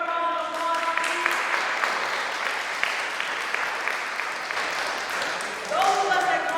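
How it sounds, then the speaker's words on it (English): Audience applause for a violinist at an arts event, a dense, sustained burst of clapping that fills the room, with a voice speaking over the start and end. "give her a round of applause, please"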